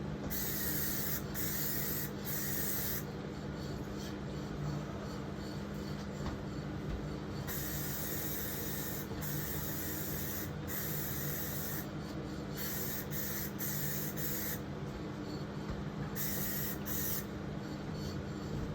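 Long hissing bursts of an aerosol spray can, repeatedly started and stopped in uneven pulses, close and fairly constant.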